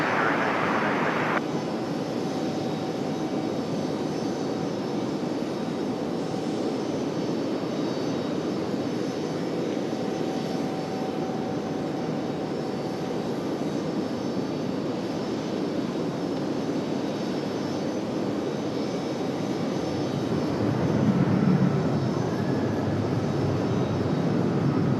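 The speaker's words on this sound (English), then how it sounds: "this one coming in from San Francisco, brand new 737 MAX" A brand-new Boeing 737 MAX arriving from San Francisco lands at RDU airport, a sustained jet engine roar at moderate distance, steady with a slight swell near the end and no voices.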